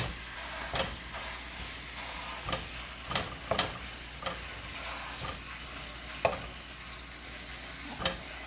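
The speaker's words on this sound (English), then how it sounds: "let me go break up the sausage" Crumbled sausage sizzles steadily in a frying pan as a spatula breaks it up, with a constant close hiss broken by several sharp scraping clinks spread irregularly through the clip.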